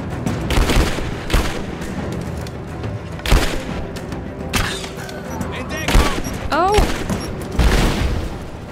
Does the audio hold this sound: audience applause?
no